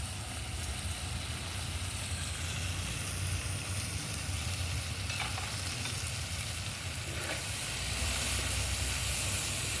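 Ginger garlic paste sizzles in a pan of hot oil for a turkey berry curry, a dense continuous frying hiss held steady and close for the whole stretch.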